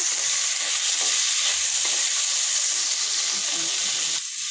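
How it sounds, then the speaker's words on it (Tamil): Brinjal pieces sautéing in oil for a thokku side dish produce a loud, constant frying hiss up close, with faint stirring clicks and a sudden shift in tone near the end. "இப்போ நம்ம இந்த கத்திரிக்காயை இந்த எண்ணெயிலேயே நல்லா வதக்க போகிறோம்"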